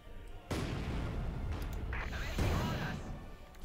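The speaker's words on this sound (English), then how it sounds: "Bit of mortar there" Mortar fire in a Company of Heroes 2 battle, a heavy muffled boom and rumbling blast hitting sharply and then rolling on, with a second impact under continuous commentary.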